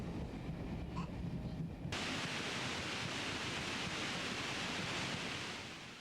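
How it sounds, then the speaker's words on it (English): Steady hiss of white noise simulating what an acoustic neuroma patient hears, quieter at first and then stepping up to a broad, even, continuous wash that fades slightly at the end, with no voices. "This is the white noise that Myris is hearing all the time."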